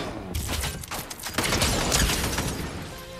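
A mounted turret in Fortnite fires a dense, continuous burst of rapid shots, loud and close, with a mechanical rattle running under the gunfire throughout.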